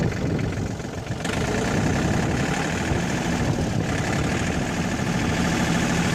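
A John Deere 4410 tractor engine runs steadily, pulled up to around 1500 RPM in the field, a loud continuous drone of low and mid engine rumble holding even throughout, with no voices over it.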